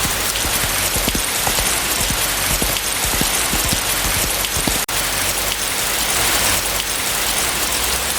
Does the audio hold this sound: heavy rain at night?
yes